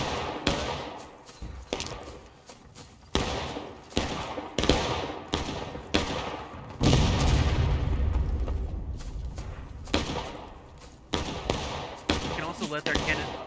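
Cannon and gunfire boom repeatedly in the War of Rights video game battlefield, a run of sharp thuds with one heavier low rumble midway, while voices talk over it.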